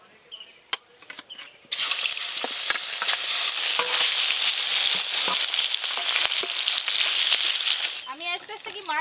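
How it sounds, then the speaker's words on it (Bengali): Pangas fish pieces drop into hot oil and sizzle loudly and steadily for several seconds, close up, before the frying dies down as a voice speaks. "এবার এই মাছগুলোও সব ভেজে নেব"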